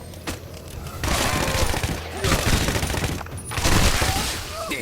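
Rifle fire in the video game Shadow Warrior 2 crackles in rapid bursts, with loud sustained volleys separated by brief pauses and a few heavy thumps.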